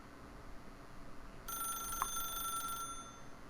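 A telephone rings in the video game The Stanley Parable, one steady electronic ring lasting over a second against a constant background hum, with no talk.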